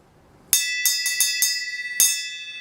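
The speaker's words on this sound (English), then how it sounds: "would you mind ringing the bell?" A bright bell rings six times in quick, uneven strikes, its clear metallic tone lingering and fading after each hit, close and loud.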